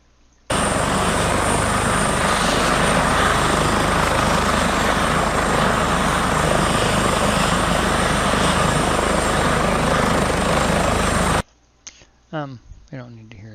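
Steady, loud Airbus H145 helicopter rotor and turbine drone holds for about eleven seconds, then cuts off abruptly and a voice talks briefly afterward.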